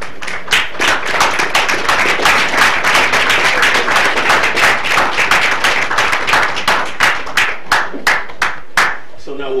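Loud, close clapping from a modest group at a Palatka city commission meeting, honoring recipients' family members and parents; individual claps stay distinct in a brisk, uneven rhythm that thins out toward the end.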